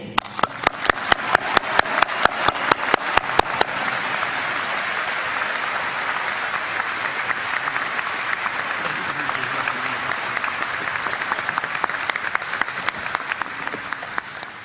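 A commencement audience at Embry-Riddle in Daytona Beach gives a roaring round of applause for the university president. It begins with rhythmic, evenly spaced unison claps, then breaks into sustained loud applause that holds to the end.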